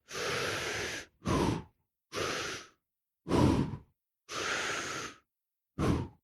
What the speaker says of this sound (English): breathe in very deeply, fill up the lungs, full capacity, fill up the gut, fill up the belly